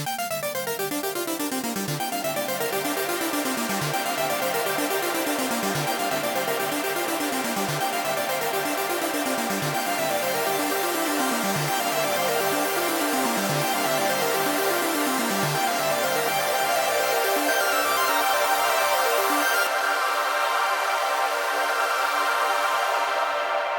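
A soloed synth arpeggio in Ableton plays on its own through the Accelerator reverb, with repeating rising-and-falling note patterns trailing into a wide, shimmering wash. It runs continuously, then ends with a brief reverb tail.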